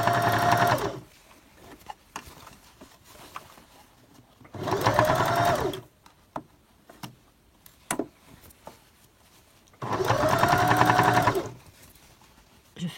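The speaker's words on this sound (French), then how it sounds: "Nous avons donc remis la machine sur la sélection point droit." A sewing machine runs a straight stitch through fabric while a drawstring bag is sewn, in three loud, steady bursts of about a second each, separated by quieter handling and small clicks.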